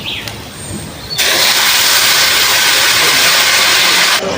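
Jute leaves dropped into a hot pan of onions and turmeric set off a sudden loud, steady sizzle that starts abruptly and holds close and bright before cutting off near the end.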